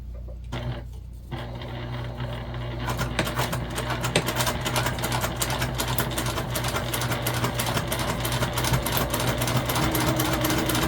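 Sewing machine running a seam on a fabric pouch, a steady, close, fast mechanical whirr and needle chatter that starts after a brief pause and carries on continuously without talk.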